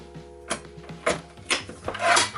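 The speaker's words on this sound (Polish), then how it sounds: "odblokowywuję guzik maszynę do samego końca i otwieram blokadę" Mechanical clicks and clunks from a Festool TS 55 REBQ plunge saw as its release button and lock are worked open, several separate snaps spread across the moment with a short rattle near the end, close up.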